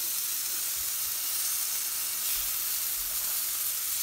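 Chicken tenders fry in a pan with a loud, continuous, even sizzle and hiss that stays close and steady from start to finish.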